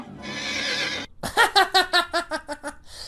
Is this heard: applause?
no